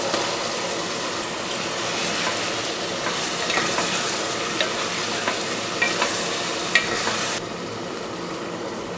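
Cleaned prawns fry in a pan with a spiced masala, giving a loud, continuous, close sizzle with stirring scrapes and a few sharp clicks, and no voices.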